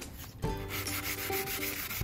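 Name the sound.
sanding with 600-grit sandpaper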